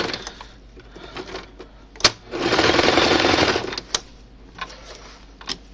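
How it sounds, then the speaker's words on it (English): A sewing machine runs a zigzag stitch on a reusable snack bag, a close, steady mechanical whir of about a second and a half, framed by sharp clicks and softer handling taps before and after. "it's a cute looking stitch to have a zigzag with the straight."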